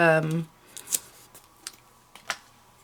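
Scissors trimming paper for a die-cut card project, a few short crisp snips spaced apart after a brief burst of speech at the start.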